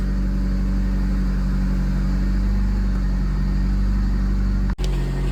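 A Renault Megane 2 engine running after starting, a loud, steady low idle rumble close by with an even drone throughout and a brief dropout near the end.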